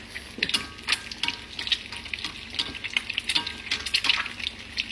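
Steady crackling sizzle of eggs frying in a deep wok with scattered sharper pops, moderately loud and continuous, no voices.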